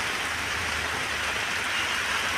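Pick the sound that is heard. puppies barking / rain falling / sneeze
rain falling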